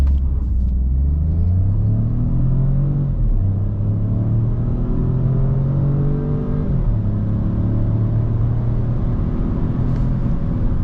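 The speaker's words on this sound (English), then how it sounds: "Now let's switch to sport mode and do a little launch control." A 2024 Citroen C4X launches hard in sport mode, its engine revving up through several gear changes with rising and dropping pitch, a steady close-up rumble and whir under acceleration, and no voices.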